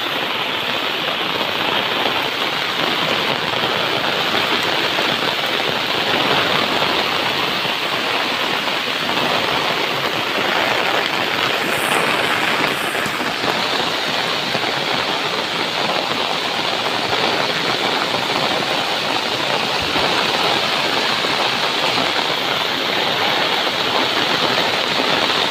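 Heavy monsoon rain in the Konkan with water flowing past a house, a dense, constant loud rush of downpour and running water with no break from start to end.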